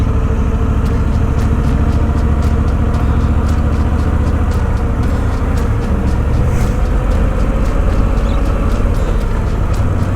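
Royal Enfield Bullet 650 twin motorcycle engine running, a loud, steady low drone with regular pulsing beats throughout, close and continuous with no voices.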